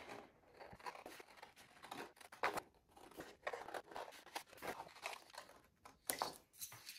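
Scissors cut through paper for a valentine hoop craft, making quiet, close snips and crunchy paper rustles in an irregular rhythm, with no talking.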